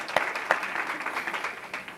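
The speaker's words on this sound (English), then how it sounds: "That deserves a round of applause." Applause breaks out at a Los Angeles city council meeting for scholar-athlete volleyball players, a fairly soft, thin patter of clapping with a few sharper individual claps standing out near the start.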